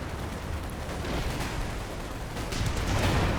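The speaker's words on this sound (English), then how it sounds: "Just see the coordinated artillery from the concentration barrage ability is coming in." Artillery barrage in Company of Heroes 2, a coordinated concentration barrage coming in as a steady rumbling roar of distant shell impacts and blasts, building slightly louder toward the end with no voices.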